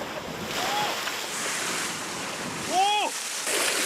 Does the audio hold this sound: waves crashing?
yes